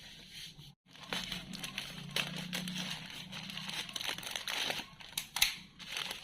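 A TV box's packaging is opened up close: continuous crinkling, crumpling and tearing of plastic and cardboard, with scattered sharp crackles and rustles throughout.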